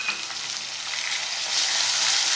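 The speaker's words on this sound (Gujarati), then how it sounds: "તો એને પણ આપણે જે ડુંગળીને ગુલાબી થાય ત્યાં સુધી આપણે સાતળી લઈશું" Grated onion sautés in a hot pan, giving a steady soft sizzle and hiss that grows slightly louder partway through, with no talking.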